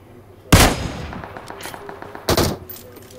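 Two sharp bursts of gunfire, about two seconds apart, ring out in the battle royale video game PUBG Mobile, loud and close, with reverberating tails and no talk.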